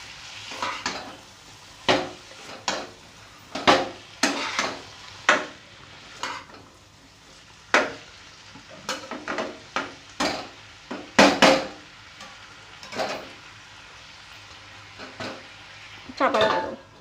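A spoon stirs an egg-potato fry with onion and tomato in a pan, giving irregular clinks and scrapes against the metal over a soft background sizzle, repeated steadily throughout and fairly close.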